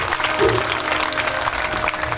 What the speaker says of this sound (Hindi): आप सब लोग नमन भी करें और एक बार जोरदार करतल ध्वनि से आप सबका अभिनंदन भी कर लें।